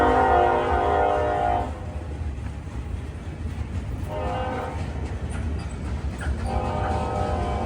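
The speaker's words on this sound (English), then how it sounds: "this eastbound passed by, and you'll note the lovely K5 LLA horn" An eastbound Norfolk Southern freight train rolls past with a K5LLA horn blaring in three loud, chord-like blasts, each separated by the roar and rumble of the passing cars, close by.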